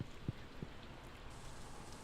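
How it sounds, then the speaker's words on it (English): Rain falling in the Stardew Valley video game, a steady soft hiss of drops with a couple of brief low thumps early on, continuous and fairly quiet. "Oh, it's raining."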